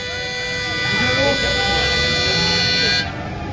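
A loud, sustained vehicle horn blares steadily for about three seconds at a farmers' mass rally in Muzaffarnagar, with shouting voices and street noise beneath it, then cuts off abruptly.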